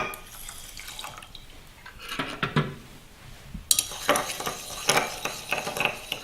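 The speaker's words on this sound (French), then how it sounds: "Lorsqu'on mélange de l'eau avec du sable" Water and sand stirred together in a glass, with clinking, scraping and splashy bursts of mixing that come near and fairly loud in uneven clusters, quieter stirring between them.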